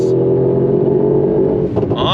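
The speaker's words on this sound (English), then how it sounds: "Drop it down to second. On throttle, here we go" A 2024 Mercedes-AMG GT 63 Coupe's engine roars steadily at high revs in second gear on throttle, a constant throaty drone close by that dips briefly near the end as it shifts.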